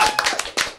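Brief bursts of clapping from a small studio audience on a podcast set, a few sharp uneven rounds of hands close by.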